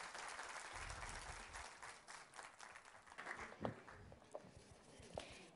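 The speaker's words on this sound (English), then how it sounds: "A round of applause." Audience applause at a tech demo day event after a team's presentation, steady clapping from a crowd that tapers off into scattered claps.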